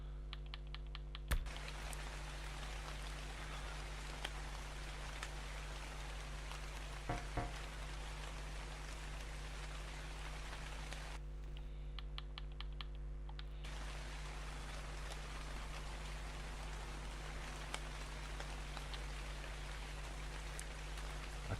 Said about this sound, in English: that's from the raindrops